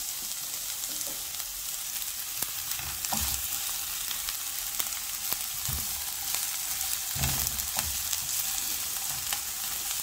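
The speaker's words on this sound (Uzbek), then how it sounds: "past olovda piyozimizni qovuramiz" Chopped onions frying gently in two spoonfuls of oil over low heat for a mushroom soup, a steady soft sizzle with occasional stirring clicks and scrapes, close and continuous with no talking.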